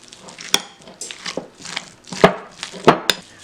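A serving spoon works ground meat for slider bombs around a bowl, giving a string of sharp scrapes and clacks in an uneven rhythm, close and fairly loud, with no voice over it.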